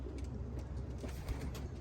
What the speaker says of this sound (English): So I'm out with the birds today.